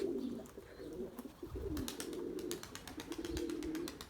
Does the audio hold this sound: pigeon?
yes